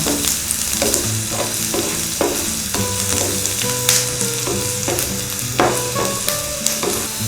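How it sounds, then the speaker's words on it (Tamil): Onions and green chillies fry in a pan for mutton gravy, a steady loud sizzle broken by repeated scraping stirs of a spatula at an irregular rhythm, close by with no talking. "வெங்காயம் நல்லா கோல்டன் கலர் வர வரைக்கும் நல்லா நம்ம வதக்கலாம்."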